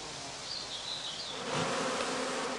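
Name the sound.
honeybees foraging on cornflowers and chamomile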